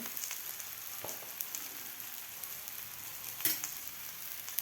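Soybean and nachni (finger millet) thalipeeth laid on a hot tawa, giving a soft, steady sizzle with faint crackles and a few small taps, close and fairly quiet, with no talking.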